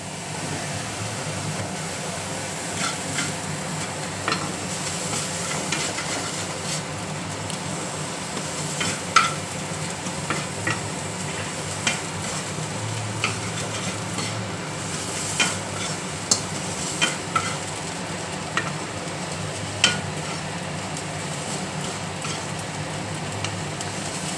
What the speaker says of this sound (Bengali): এই নারকেলটা আমি এই মশলাটা আমি একটুখানি নেড়ে নেব